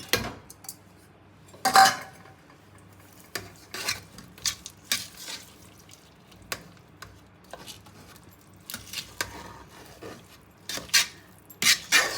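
A spoon stirs tempered Jaffna-style avisu in a cooking pot, producing scattered metallic scrapes and clinks in irregular bursts against a quiet background, with no voices.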